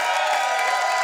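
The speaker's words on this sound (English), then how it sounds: "get the applause going right now!" A comedy club audience roars with steady applause and cheering for stand-up comedian Luke Heggie, a dense, loud wash of clapping and crowd noise filling the whole short moment without pause.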